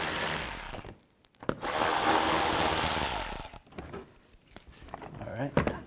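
A ratchet and socket on an 8mm bolt of a 2004-08 BMW X3 makes bursts of dense ratcheting, with two long loud runs split by a quiet gap, then quieter scattered clicks and clanks near the end.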